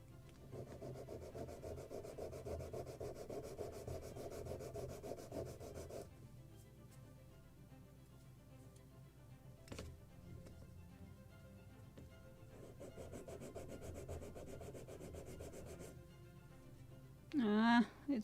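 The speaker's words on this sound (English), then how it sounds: "And now I need to sand it a little." Sanding a small wooden part of a Midwest model kit of a Muscongus Bay lobster smack by hand, steady close rasping strokes in two long bursts with a quieter pause between and a brief clatter at the end.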